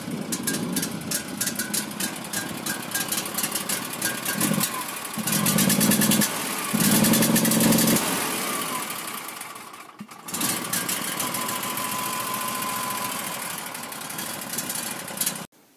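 A rough-running all-terrain vehicle engine, as if on a closed choke, chugs unevenly throughout, with louder, deeper stretches midway and a brief dip before it carries on steadily.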